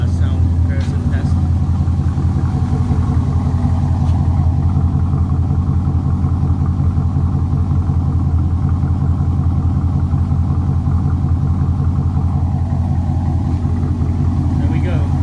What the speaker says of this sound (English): So this is how the car sounds now.